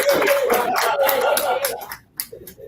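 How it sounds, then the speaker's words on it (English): An audience at a wealth empowerment summit claps in a dense, steady patter that fades out near the end, leaving a few scattered claps and a bit of talk. "Can you help me put your hands together for me?"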